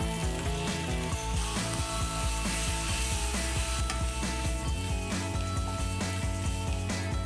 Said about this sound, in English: It's important to cook this minced meat on high flame